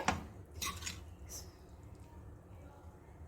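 Cooked rice for egg fried rice is stirred and mixed in a pan, making a few soft, close squishing and scraping strokes in a short burst.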